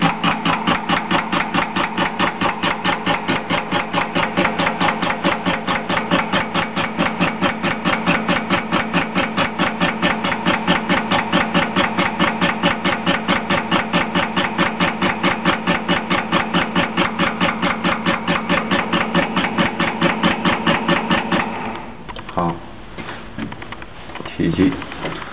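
LABULK 0335 tap density tester running, a steady rapid mechanical tapping drone that continues evenly for about twenty seconds and then stops, leaving quieter room noise and faint handling sounds.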